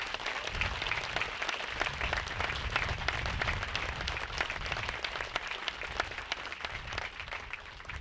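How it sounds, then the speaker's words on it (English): A crowd at a Marine Corps Air Station Yuma change of command ceremony gives the band a sustained round of applause, dense clapping at moderate distance that tapers slightly near the end. "So I'd like a round of applause for our band and say thank you."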